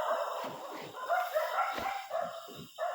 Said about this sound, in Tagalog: nagtatahulan yung mga aso